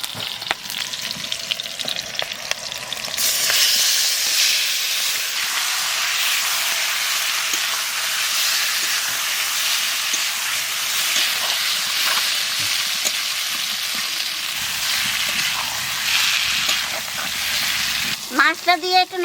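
Deshi magur fish frying in hot oil with green chillies, a loud steady sizzle that swells as the fish goes in and continues throughout, with brief stirring noises near the end.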